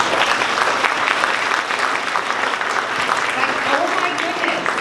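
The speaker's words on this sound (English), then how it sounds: "Let's go ahead and give him a round of applause." A large audience claps steadily in a dense, sustained round of applause at a Dallas County Promise event, the sound loud and continuous throughout with faint voices mixed in.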